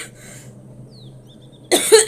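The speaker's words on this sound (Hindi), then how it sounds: "मुझे बहुत ज़्यादा खांसी आ रही है" A sick woman, unwell with a heavy, persistent cough, lets out a sudden burst of loud, close coughing after a quiet room-tone stretch, with a couple of harsh hacks in quick succession at the end.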